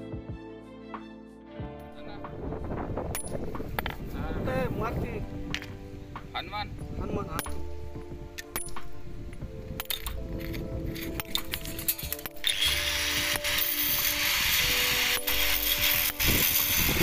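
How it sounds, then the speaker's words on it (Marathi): A steel chisel driven by a hammer dresses basalt stone for carved masonry work, giving irregular sharp metallic taps and clinks over steady background noise. "दगड घडई ही छनी हातोड्याशिवाय होत नाही."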